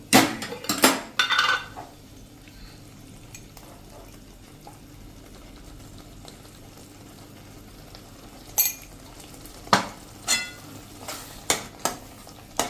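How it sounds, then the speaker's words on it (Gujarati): A spoon stirs garam masala into bottle gourd curry in a pot, with a cluster of clanks at the start, quiet cooking in the middle, then more metal taps and scrapes toward the end. "એને પણ આપણે સરસ મિક્સ કરી લેશું"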